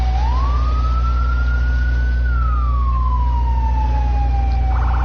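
A wailing fire truck siren from a firefighting simulator video game rises and falls in long sweeps over a steady low engine rumble, loud and continuous, with a second tone cutting in briefly at the end.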